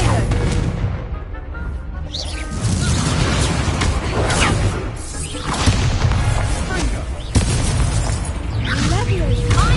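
Repeated Confringo spell blasts in a video game, loud bursts and whooshing explosions overlapping continuously with crashes and pops, under talk.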